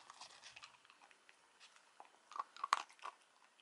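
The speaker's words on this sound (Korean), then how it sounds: "간식을 안 먹고 사료 먹네." A dachshund eating dry kibble up close, quiet irregular crunches and bites building to a few sharper cracks near the end, faint and without talking.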